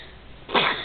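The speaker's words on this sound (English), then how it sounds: "After he sneezed" A child sneezes once, a short sharp burst near the microphone after a quiet moment, with no talking over it.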